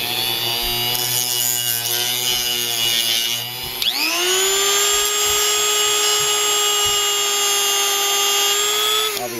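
A Dremel rotary tool cuts plastic parts for a 1:32 scale RC model, a loud continuous high-pitched whine with a brief dip in speed near four seconds before steadying again, running alone throughout.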